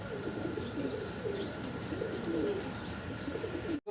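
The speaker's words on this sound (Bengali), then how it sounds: "তিন তিন পিস কবুতর দেখতেছেন দেখার মতো সুন্দর" Several pigeons at a pigeon seller's stall coo in a steady, overlapping murmur of low rounded calls, fairly close and continuous, with faint chirps above and no talking.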